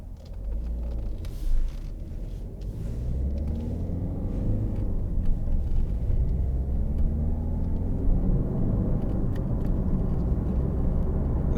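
Road driving in a 2013 Ford Focus 1.6 TDCi ECOnetic diesel, a continuous low engine and tyre rumble heard from inside the car, steady and moderately loud with faint higher clicks and no talking.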